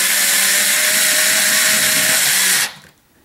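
A power drill runs steadily and loudly while tightening the screws that fix a ceiling fan mounting bracket to the electrical box. It holds one continuous whir before cutting off near the end.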